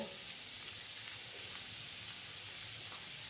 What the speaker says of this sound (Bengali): এটাকে আমি মূলোটাকে 5 মিনিটের মতো ভালো করে ভাজা ভাজা করে নেব।